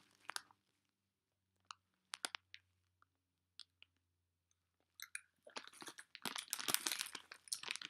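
Skittles candy crunched and chewed close to the mouth, with scattered sharp bites and clicks through quiet gaps, then a dense burst of rapid crunching near the end.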